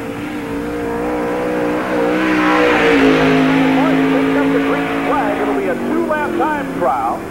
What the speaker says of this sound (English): on the track for the time trials is the 11M car